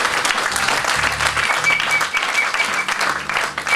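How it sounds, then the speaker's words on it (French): A church congregation applauding the Lord, dense, loud, continuous clapping from a crowd, with a musical tone underneath. "Est-ce qu'on peut acclamer le Seigneur?"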